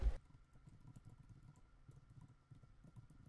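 Quiet typing on a computer keyboard, a quick irregular patter of soft key clicks that runs steadily with brief pauses, heard close and alone with no talking.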